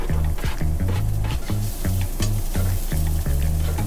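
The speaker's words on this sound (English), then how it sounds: "my onions are browning up, so I'm gonna add the garlic" Onions brown in a pan at an RV campsite, a strong steady sizzle with rhythmic scraping and stirring strokes as garlic goes in, close and loud with no talking.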